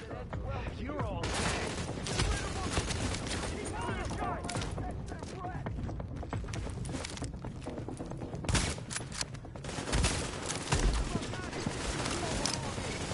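An enemy machine gunner in The Division fires near-continuous bursts of automatic gunfire for several seconds, loud and busy, with speech heard intermittently over the shooting.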